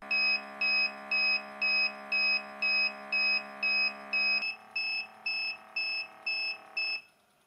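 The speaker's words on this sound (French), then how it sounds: "vous avez un bip d'avertissement de fin de batterie" Low-battery warning beeps from the dust collector of a GVDA GD51 laser level mobile stand: a steady train of about fourteen short, evenly spaced electronic bleeps, loud and close, the backing hum dropping partway through before all sound stops.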